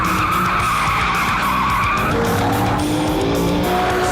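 A Lamborghini racing car with a 6.5 litre V12, driven hard side by side on a race track, roars loudly and steadily while its tyres skid and squeal through a corner, close and continuous.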